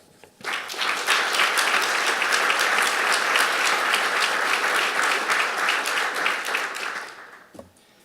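An audience at a business school symposium breaks into sustained applause to welcome a speaker, dense clapping holding steady for several seconds before fading out.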